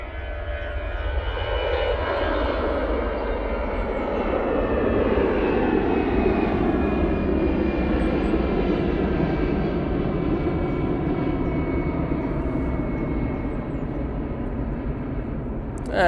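An EasyJet airliner takes off from Manchester Airport bound for Lisbon, its jet engines holding a loud, steady roar for the whole stretch, with a faint rising whine layered on top and no voices.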